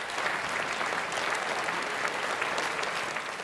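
Applause at a multiple sclerosis symposium, a steady, moderately loud patter of many hands clapping from the audience that continues evenly throughout, with no talking over it.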